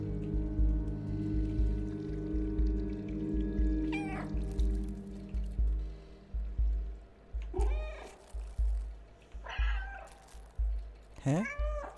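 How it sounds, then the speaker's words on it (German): A cat meows several times in the video game Stray, the calls spaced out over a steady low ambient hum with soft rhythmic thuds, fairly close and clear without talk. "Guck mal, es leuchtet immer, wenn ich miaue."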